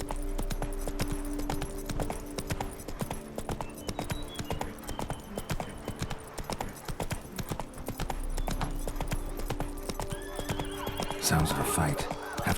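Roach, Geralt's horse in The Witcher 3: Blood and Wine, gallops with steady, rapid hoof clip-clops and gives a loud whinny near the end. The hoofbeats run close and continuous over a low game ambience.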